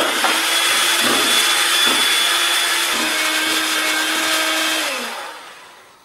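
An electric blender whirs steadily as flour is mixed into apple fritter batter, the motor's pitch shifting slightly before it winds down and cuts off near the end.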